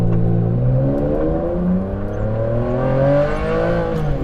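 A Ferrari Enzo sports car pulling away and accelerating, its engine note rising steadily through the revs with a smooth, close, loud howl that climbs in pitch without pause.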